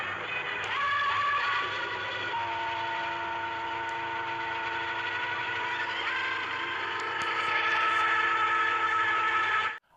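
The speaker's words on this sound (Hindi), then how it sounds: "देखिए अगर ट्रेन का सीन जिस वक्त सुल्तान रई साहब भाग रहे हैं और पीछे पीछे पुलिस वाले ह" Train sounds from a chase scene in the Pakistani film Raka, with police pursuing a fleeing man: a steady, loud rumble of a moving train with sustained whistle-like tonal layers running almost the whole ten seconds, then cutting off abruptly.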